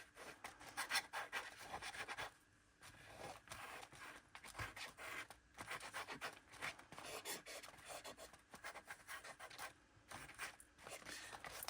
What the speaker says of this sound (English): this one will be interesting to scrape away as well, particularly because it's got that craft paper underneath